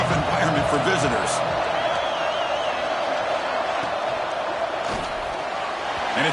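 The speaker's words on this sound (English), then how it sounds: "Listen to the crowd energy here in the early going." A college football stadium crowd roars steadily through an Alabama at North Carolina game, a broad sustained cheer with scattered whoops and claps, while a commentator talks over it.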